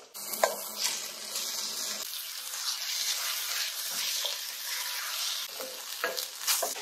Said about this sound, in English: I'm gonna let that finish sauteing with the peppers and onions